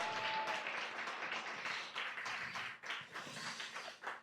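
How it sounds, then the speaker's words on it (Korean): Applause from a church congregation, a steady wash of clapping that carries on for several seconds at moderate volume, with no talking over it. "다시 한번 큰 박수 부탁드리겠습니다"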